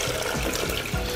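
Liquid poured through a Thermomix steaming insert, a short, close splash and trickle that continues steadily without talk.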